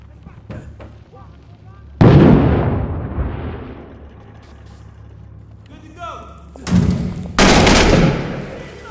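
A grenade blast and gunfire ring out in the urban combat shooter Six Days in Fallujah, with one loud burst at two seconds that rolls off slowly and two more heavy blasts near the end, over a steady low rumble.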